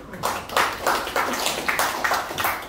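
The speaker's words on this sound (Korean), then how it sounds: "박수 한번 쳐주십시오" An audience at an indoor gathering gives brief, scattered clapping, a few uneven bursts of hand claps at moderate distance that rise and fade within a couple of seconds, without voices over them.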